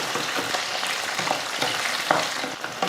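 Okra and onions sautéing in a pan for a vegetarian Pongal feast lunch, giving a steady, close sizzle with soft stirring scrapes and no voices.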